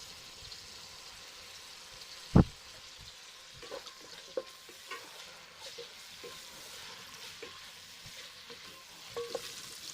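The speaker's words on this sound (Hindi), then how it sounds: "ऑयल गर्म हो चुका है, अब हम इसमें प्याज ऐड कर देते हैं।" Onions sizzle in hot mustard oil in a pot, a soft, steady frying hiss with scattered small pops and a sharp clack near the start, heard alone without talking.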